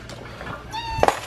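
A single short cat meow sounds close by in a quiet indoor room, rising briefly over a faint background murmur.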